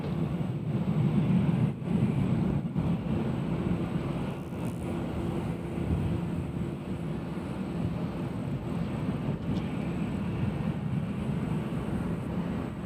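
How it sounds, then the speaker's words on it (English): A Legion Airlines airplane lands at Nashville International Airport, heard as a low, steady, distant rumble with wind buffeting, fairly faint and unbroken throughout. "here comes the Legion Airlines coming in from the Cheese State"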